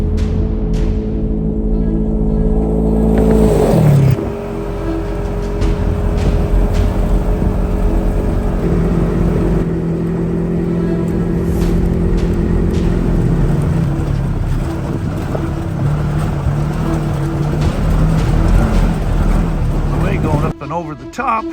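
A vehicle climbs over a hill near Lake Mead, its engine drone and heavy wind buffeting the microphone running throughout, with a shift in pitch partway through and someone talking over much of it.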